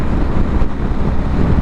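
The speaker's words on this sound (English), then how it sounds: "I'm getting a lot of wind around my chest area." Wind roaring past a rider on a BMW S1000XR motorcycle, a loud, continuous low rumbling buffet with no talk over it.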